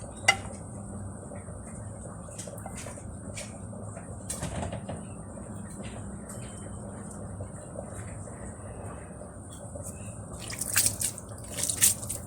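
Water trickles and drips onto steamed couscous in a home kitchen, giving a soft, steady wet pattering close by with a few faint clinks of utensils and no talking.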